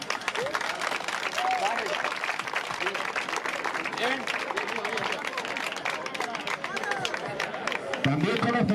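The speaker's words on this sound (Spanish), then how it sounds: "¡Un aplauso!" Outdoor crowd at a village San Isidro festival tractor strength and handling contest applauds steadily for several seconds, dense clapping mixed with crowd chatter and a voice near the end.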